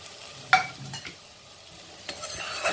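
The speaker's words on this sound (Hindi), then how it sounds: "अब इसमें हम भिंडियों को भी भून लेते हैं।" Okra going into a pan with potatoes, tomatoes and garlic for a Sindhi sabzi, stirred with a spoon; a couple of sharp scrapes and clinks over a faint, quiet sizzle.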